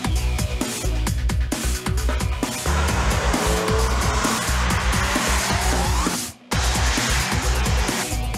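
A BMW 1M Coupe is driven hard on a race track, its engine roaring loudly through the gears while tires squeal and skid through corners, with one brief drop-out near the end before the engine noise returns.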